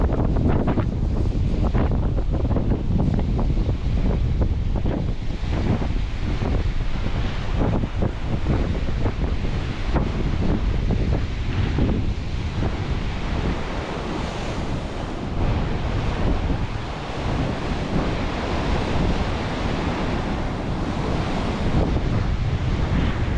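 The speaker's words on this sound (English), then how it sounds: "look at the waves here." Ocean surf breaking on the coast near Wadebridge and Newquay in Cornwall, a loud continuous wash of waves with heavy wind buffeting the microphone throughout.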